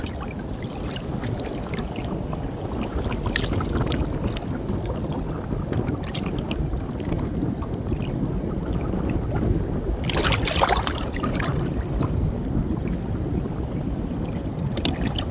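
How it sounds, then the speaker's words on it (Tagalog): Waves driven by the strong northeast monsoon wind slosh and splash steadily against a small boat, with louder surges near the middle and later on, and no voices over it. "Lakas kasi ang hangin, abihan idol. Alon."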